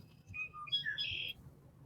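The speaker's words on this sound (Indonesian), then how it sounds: "Oh iya, birdnya di situ teman-teman." A bird chirps and whistles in a quick run of bright, clear calls beside a river behind village houses, fairly close and heard alone over a low background rumble.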